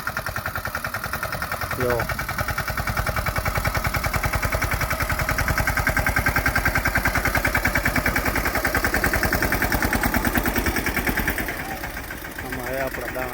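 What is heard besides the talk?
tractor engine running in a field while sowing peanuts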